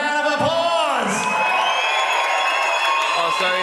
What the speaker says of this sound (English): let's give these fighters another big round of applause